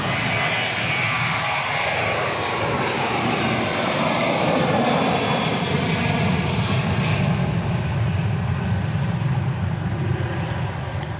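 Loud, sustained jet engine roar from an aircraft on a flight to New Orleans at Dallas Love Field at night, a dense unbroken rumble with no talk.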